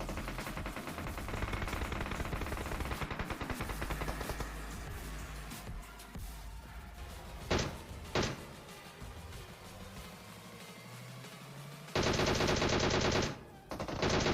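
Bursts of automatic gunfire in a mobile battle royale shooter played on an iPad Mini 5, with dense rattling fire early, a couple of sharp single shots midway and a loud sustained burst near the end.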